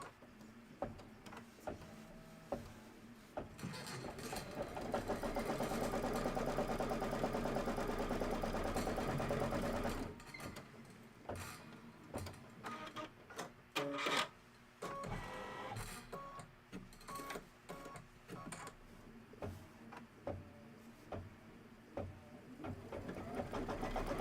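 An embroidery machine stitches tack down and quilting lines on a Kimberbell Let Me Call You Tweetheart pillow, first as a steady rapid whirring hum, then as choppier stitching with clicks and pauses, close and quiet.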